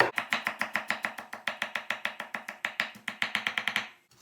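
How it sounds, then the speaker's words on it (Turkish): Rapid, even knife strokes finely chopping onions on a cutting board, dozens of crisp chops in a steady rhythm, close up, stopping abruptly at the end. "Soğanlarımızı çok ince doğrayacağız."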